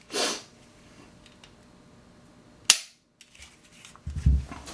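Two sharp, loud pistol shots from a Glock 26 Gen 4 at a shooting range, one at the start and one midway, separated by quiet, followed by some faint handling noise.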